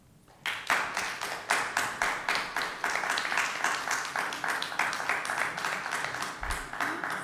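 Enthusiastic applause from the audience at a school board business meeting, a steady burst of many hands clapping that starts abruptly and carries on without a break, fairly close and loud.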